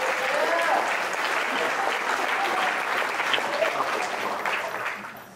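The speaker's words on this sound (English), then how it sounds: "let's give an applause for Joe, I guess" Wedding guests applaud steadily for several seconds during the speeches, a dense wash of clapping that tapers off near the end.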